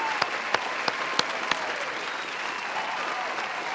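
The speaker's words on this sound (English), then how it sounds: "Round of applause for Chase Garland." A studio audience gives actor Chase Garland a round of applause, moderate steady clapping with a few sharp individual claps standing out at the start.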